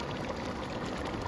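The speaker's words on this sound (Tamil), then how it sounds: "250 ml தண்ணி நம்ம இப்போ எக்ஸ்ட்ரா ஆட் பண்ணுறோம்" Extra water poured into a pot of mutton biryani while cooking, a steady dense splashing pour, close and continuous with no talk.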